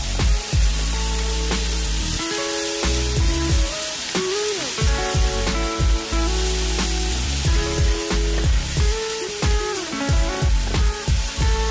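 Garlic frying in a pan for homemade chili gives a loud, continuous sizzle that swells and dips over a steady hiss, close by, with no talking.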